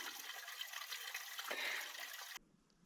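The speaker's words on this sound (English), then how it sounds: "I'm back at our waterfall" Steady broadband rush of a small trailside waterfall, found off the map on a long mountain ultra route, pouring continuously and fairly close before cutting abruptly to a quieter background near the end.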